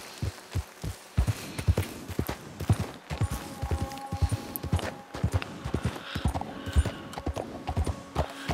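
Horse hooves clip-clop steadily along a trail in a cowboy video game, a close, rhythmic series of hoof strikes that continues throughout with no speech.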